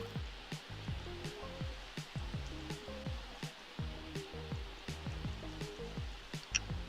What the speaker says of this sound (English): we gonna use this area because it's raining